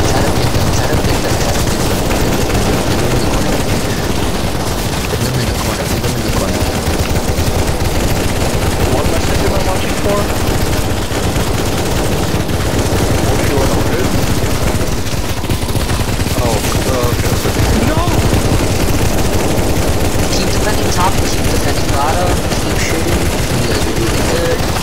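Continuous rapid gunfire from CS:GO zombie escape on the ze_cyberpunk_x_a07 map, dense machine-gun bursts sustained loudly throughout with voices talking over the shooting.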